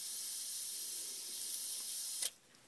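Air hisses steadily out of a Fernox TF1 filter as it is vented, a constant bright rush that cuts off abruptly just before the end, leaving near quiet.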